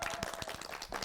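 Scattered, uneven clapping from a small studio audience at an Indonesian TVRI show, a handful of distinct hand claps over about a second, fairly quiet with faint background voices.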